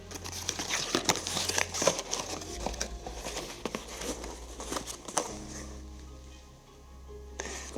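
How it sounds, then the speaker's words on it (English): A cardboard shipping box being ripped open by hand, close up: a steady run of crinkly tearing and rustling bursts with sharper snaps, easing off near the end. "I'll just rip the box."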